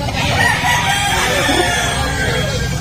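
A rooster crows amid a busy, noisy outdoor chicken market in Bulacan, Philippines, with steady background commotion, moderately loud throughout.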